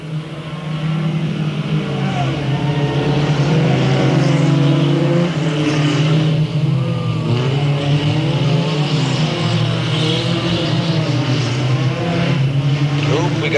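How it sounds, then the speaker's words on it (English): Race cars roar around the Delta Speedway oval in a steady, loud engine drone with shifting pitch as one car spins out on the back stretch, while a commentator talks over the racing throughout. "Got J.B. Griffith spinning on the back stretch."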